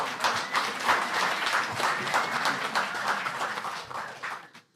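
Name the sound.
audience applause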